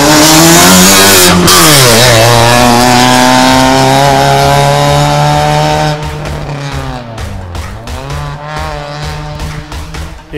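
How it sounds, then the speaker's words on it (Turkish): A race car engine at the start of a hill climb, revving loud and close in sustained high-pitched blips that sweep down and up, then easing into lower, choppier revs. "Startta şey yapıyor, ara gaz ediyor."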